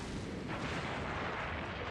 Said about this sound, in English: The cannon fire was crumbling the roof above